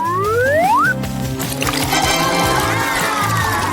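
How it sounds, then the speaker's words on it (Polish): Water pours and splashes steadily from a shower, a continuous rush mixed with a brief rising whistle-like tone at the start, close and fairly loud with no talking. "Potrzebuję orzeźwiającego prysznica."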